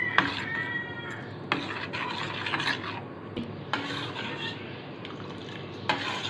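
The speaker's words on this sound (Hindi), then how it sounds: "इस तरह चमचे चलाएंगे कि नीचे से लग ना जाए।" Spoon stirring melting soap in an old pot, scraping and rubbing strokes repeating at irregular intervals, close and moderately loud with faint background noise and no talk.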